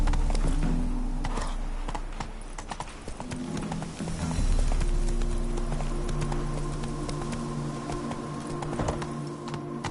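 Roach, the horse in The Witcher 3, gallops with quick, rapid hoofbeats over a continuous droning background of game music and ambience.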